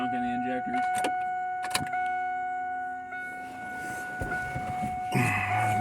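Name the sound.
engine cranking and starting after two years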